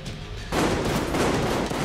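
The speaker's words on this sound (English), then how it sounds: "Not sure who is shooting over there." Sudden burst of rapid gunfire in Metro Exodus, a dense fusillade of automatic shots that starts abruptly after a brief quieter moment and continues loud and close to the end.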